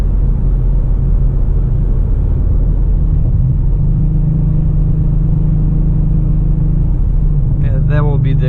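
A 2017 Ford Mustang with a manual MT-82 gearbox and a Barton short-throw shifter cruising on the freeway, giving a steady, loud engine and road rumble throughout. A brief voice comes in near the end.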